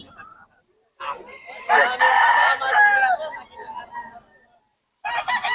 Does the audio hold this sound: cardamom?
no